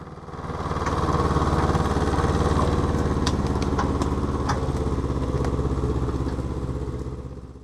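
Homemade small-scale tractor engine labouring uphill on a dry rural road, a steady close, loud putter with mechanical clatter running continuously throughout without pause.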